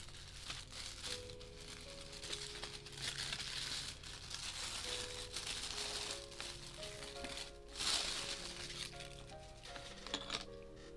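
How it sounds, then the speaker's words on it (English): A small paper insert from a Transformers Studio Series 86 Scrapper figure box being unfolded and crinkled, with steady close rustling and crackling throughout and a louder crunch near the end. "And then opening up this little paper thingy."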